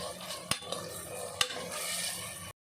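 Onions and tomatoes sautéing in a pan for sambar: a soft steady sizzle, close and quiet, with two sharp clacks of a spoon against the pan and light stirring scrapes.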